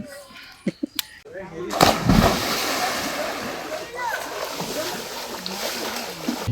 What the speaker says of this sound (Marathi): आपली चिल्ली पिल्ली सगळे पाण्यात उतरली आहेत